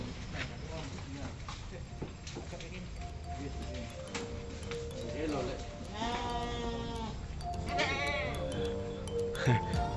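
Goats on a livestock transport truck bleat repeatedly, several wavering calls overlapping through the second half, over a steady engine and road hum with someone talking throughout.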